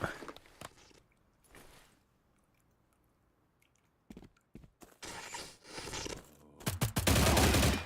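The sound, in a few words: gunfire in the video game STALCRAFT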